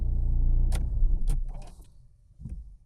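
A Mercedes-Benz engine started with a newly programmed key, a low rumble fading as keys clink and a couple of sharp clicks sound up close, followed by a softer mechanical click.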